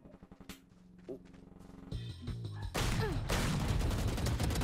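Gunfire in the video game Valorant, a burst of rapid shots that builds from scattered pops into a loud, dense volley near the end, layered with game effects.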